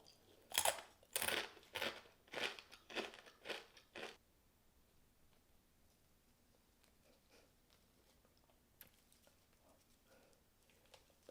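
A crunchy Korean croissant waffle is chewed up close, giving a quick run of about eight loud, crisp bites and crunches, then quieter occasional chewing and faint clicks.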